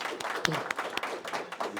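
Brief applause from an audience at a startup pitch session, a short patter of clapping with a few distinct close claps, fairly quiet and lasting under two seconds.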